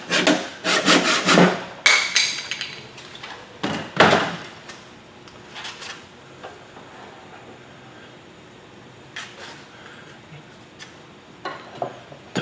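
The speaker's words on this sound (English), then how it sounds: "I'm going to saw the end on off" A hand saw cuts off the end of a wood blank mounted on a lathe, with a quick burst of loud rasping strokes early on, then sparser scraping and knocks, close and without talk.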